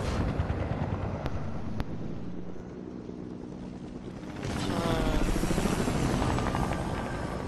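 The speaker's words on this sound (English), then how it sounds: "what is that helicopter noise?" A helicopter in an animated cartoon drones steadily as a broad rumbling wash, fairly loud and continuous, swelling louder in the second half with a throbbing beat.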